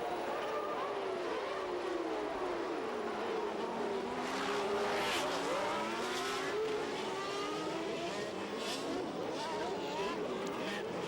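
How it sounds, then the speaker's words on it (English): Late-1980s Formula One cars, including a March and a Williams, roaring through the start of a 1989 race with a steady loud blend of engines and crowd-like wash, with a commentator talking over it throughout. "watch for Mauricio Gugelmin's March missing its braking point and launching itself over Boutsen's Williams"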